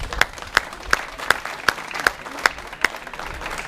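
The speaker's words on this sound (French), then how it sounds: "Je vous demande de les applaudir aussi" Steady, evenly spaced claps ring out about eight times in a slow rhythmic beat at a charity run gathering of some 300 runners. The sound is sharp and fairly close, with no talk over it.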